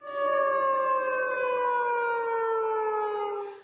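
A loud, sustained air raid siren wails steadily, its tone slowly sliding downward, with no voices present.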